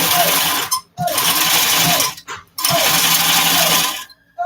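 A sewing machine runs in three long stitching bursts separated by short pauses, stitching backward and forward over a seam with thick heavy thread, loud and close with a steady whirring motor.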